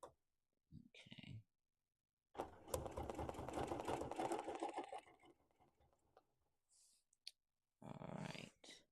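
A sewing machine runs for a couple of seconds during free motion quilting on a wholecloth quilt, a fast mechanical whir framed by short clicks and faint handling noises.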